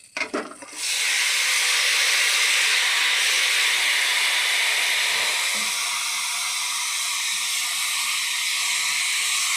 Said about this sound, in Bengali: এবার দিয়ে দেবো এই কচুর শাক।